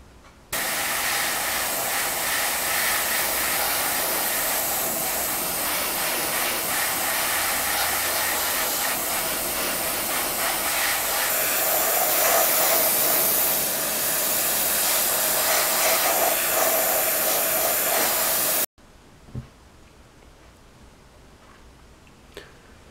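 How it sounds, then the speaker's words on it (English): An airbrush sprays paint onto an Airfix HMS Belfast plastic model kit over black primer, giving a steady, close airy hiss for about eighteen seconds before it cuts off, leaving a quiet room with a couple of faint ticks. "now I'm going to use my airbrush to start painting the model kit"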